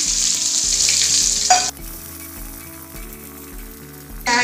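Loud sizzling of panch phoron spices and onion frying in hot oil, crackling steadily with bursts of hissing spatter, while faint music plays underneath.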